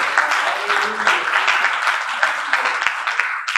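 A congregation at an Easter Sunday church service breaks into applause, a dense wash of many hands clapping that carries on steadily, with voices mixed in.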